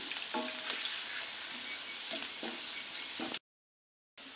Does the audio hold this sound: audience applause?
no